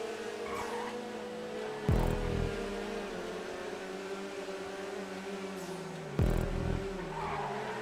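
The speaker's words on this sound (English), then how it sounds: "Came off way too hard on the brakes there." A car in a GTA video game race braking hard and skidding, tire squeal and engine noise running steadily, with two sharp jolts where the brakes bite, loud and close, no speech.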